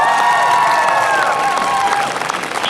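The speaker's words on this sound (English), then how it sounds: "yes, we applaud and celebrate this" A rally crowd cheers and applauds at a reproductive-rights event, a dense, steady wash of clapping with raised shouting voices, loud and close, easing slightly toward the end.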